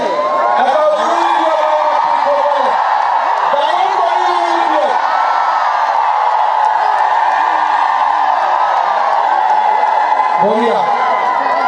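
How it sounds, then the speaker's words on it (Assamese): A crowd at an election rally ululates in high, wavering trills that ripple and overlap continuously, with voices and cheers mixed in. "ধুনীয়া উৰুলি দিছে"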